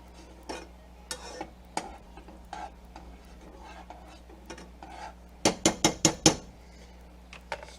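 A utensil stirs sweet chili glaze in a pot, with scattered clinks and scrapes against the metal, then a quick burst of five or six rapid knocks near the end, all close and without speech.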